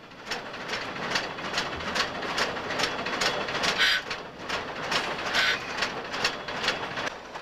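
A narrow gauge steam logging train on the Yosemite Mountain Sugar Pine Railroad rolls along winding mountain forest tracks at a leisurely pace, giving a steady clatter with repeated rhythmic clicks and a couple of sharper squeals.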